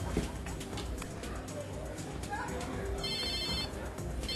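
A mobile phone rings, a short electronic ringtone burst standing out near the end over a busy, noisy indoor background.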